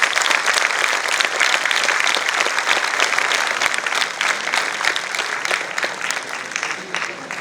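An audience at a Teachers' Day event in an academic hall gives a long, sustained round of dense applause for the teachers, steady throughout with faint voices beneath.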